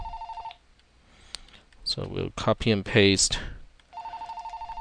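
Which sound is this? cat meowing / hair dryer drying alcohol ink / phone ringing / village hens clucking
phone ringing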